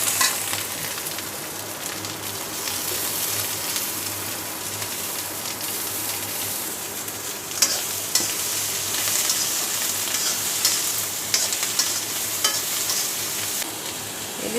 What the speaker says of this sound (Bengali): এবার চুলার আঁচ কমিয়ে আস্তে আস্তে ভেজে নেব